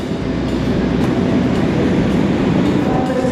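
KA Gunungjati executive passenger train in a K1 New Image carriage, heard as a steady, loud interior rumble of running wheels and rail noise with faint rhythmic clicks throughout, no voices.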